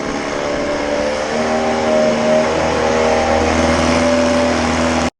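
A sailboat's outboard engine running in a shallow bucket of water gives a loud, steady, close droning hum with a faint rise partway through, then cuts off abruptly at the end.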